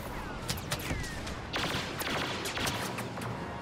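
A dense, continuous barrage of shots and impacts in the Fighter Squadron/Battle Station flight combat game, as a player takes fire in midair, loud and layered throughout with no pauses.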